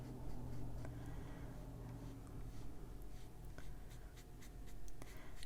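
Distress ink being rubbed in blue around a colored image on paper not well suited to the ink, a soft steady scratchy rubbing that continues throughout, close and fairly quiet, with no talk.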